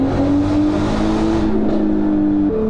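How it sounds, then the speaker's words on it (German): A Golf 4 R32 turbo car is driven to warm the engine, giving a steady loud engine drone that holds its pitch and then steps up near the end. "Jetzt fahren wir das Auto wieder warm"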